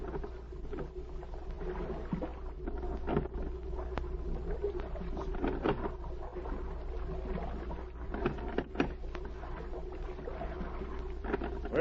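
Rowboat moving on water in a vintage radio drama sound effect, soft rhythmic oar splashes and creaks over a low steady wash, fairly quiet and close, with no voices.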